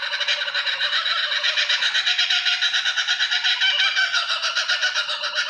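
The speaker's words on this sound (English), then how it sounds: "That's the kookaburra." A kookaburra gives a loud, sustained rhythmic cackling call of rapid repeated hoots, steady and close, with no talk over it.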